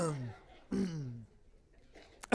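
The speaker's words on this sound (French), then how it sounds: "Vous toussez tous avec moi, c'est merveilleux." Throat clearing and coughing from a church congregation during a French sermon: a couple of short, rough bursts close by, followed by a quieter stretch and a sharp noise at the end.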